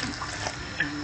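Water pours steadily into flour for achomo dough, making a soft continuous splashing rush for about a second, close with no talking.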